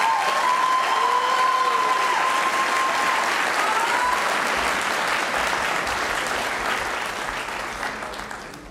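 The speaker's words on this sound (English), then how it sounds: "How about a nice round of applause for our second group?" An audience at a high school student achievement night gives a loud, sustained round of applause that fades toward the end.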